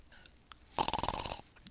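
A man snoring in the video game Lucid9, a single loud rasping snore with a rapid rattling pulse lasting about half a second, preceded and followed by faint game ambience.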